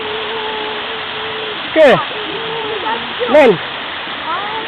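Telaga 7 waterfall in Langkawi, Malaysia, a loud, steady rushing roar that fills the whole clip, with a child's and an adult's voices calling out over it now and then.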